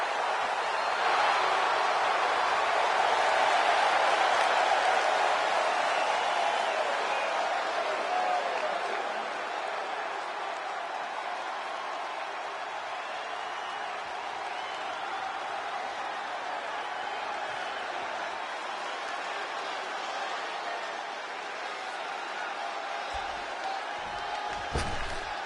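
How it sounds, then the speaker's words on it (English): A sustained roar of cheering and applause from the WWE 2K26 wrestling arena crowd swells early, then holds as a continuous, fairly loud wall of noise, with a few thuds near the end. "The crowd is on its feet."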